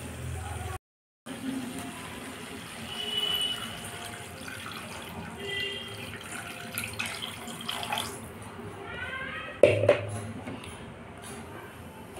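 Water pours into a pan of bhola fish curry, a steady splashing stream close by that runs for several seconds before a clatter and quieter sizzling.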